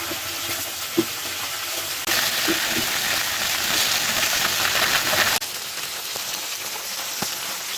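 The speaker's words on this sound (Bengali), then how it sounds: "এখন একটু ভেজে নেব।" Cut okra fries in a pan for masala bhindi, producing a dense crackling sizzle with occasional stirring knocks. The sizzle swells louder through the middle stretch and then eases back, with no speech.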